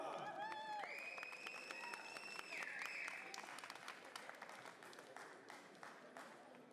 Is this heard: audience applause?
yes